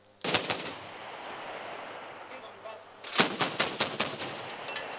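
Rapid bursts of gunfire at an artillery training exercise on a military range in Kachia, Kaduna State, Nigeria: a quick volley of sharp cracks, a pause with rumbling outdoor ambience, then a second rhythmic string of loud shots.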